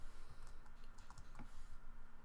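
Keys clatter in a quick, continuous run of typing on a computer keyboard, fairly quiet and close, with no talk over it.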